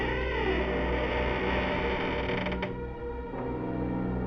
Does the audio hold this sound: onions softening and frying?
no